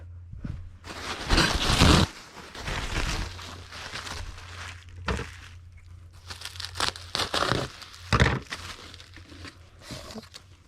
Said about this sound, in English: we will need a sheet of bubble wrap that we'll cut in half